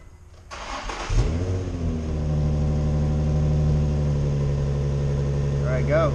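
A Honda car with its stock exhaust cranks over briefly and fires up around one second in, then settles into a steady, close idle that stays loud until the end, with a couple of short voice sounds near the finish.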